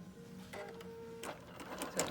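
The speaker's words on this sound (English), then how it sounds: "and then it will start to sew." A Bernina Q Series sewing machine starts stitching after a tie-off knot, its motor whirring steadily with a short buzzing tone and rising mechanical chatter, fairly quiet and close, with no talk.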